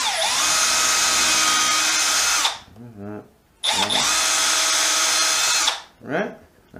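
A power drill whirs loudly in two long bursts of a few seconds each, separated by a short pause with a bit of talking.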